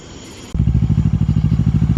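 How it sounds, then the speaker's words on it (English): A Kawasaki Vulcan 650 motorcycle riding on the road at night starts with a sudden loud engine burst that settles into a close, rhythmic, pulsing throb, with no voices. "here is the bike on the road."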